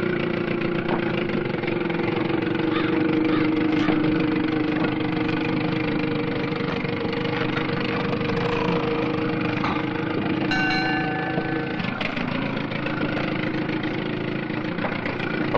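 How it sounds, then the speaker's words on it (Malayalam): A motor boat engine drones steadily as the boat arrives, a continuous mid-pitched hum that holds loud throughout with a brief clatter partway through. "താണ്ട ബോട്ട് വന്നു."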